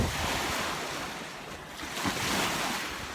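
Waves on the sandy shore of Lake Inawashiro at Shidahama beach, a broad, steady wash of surf mixed with gusty wind buffeting the microphone, loud and close with one soft swell near the end.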